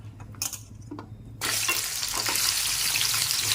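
Stuffed ivy gourds drop into hot oil in a pan for an onion-masala curry, and after a few faint clinks a loud, steady hiss of frying sizzle surges up and keeps going, close and continuous, with no talking.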